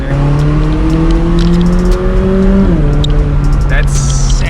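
A race car engine drones loud and steady through mountain canyons near Evergreen, Colorado, its pitch holding then dropping as the driver shifts, with a few brief clicks over the continuous roar.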